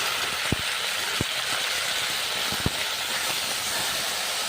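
Drained drumstick leaves hit hot oil with onion and tempering spices. A broad, steady sizzling hiss fills the pan, broken by a few sharp clacks, and no one speaks.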